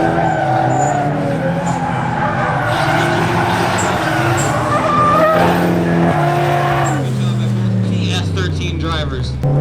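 Drift cars at a drifting competition, including an S13, sliding through a corner with tires squealing in high wavering whines over revving engines, while an announcer talks over the action.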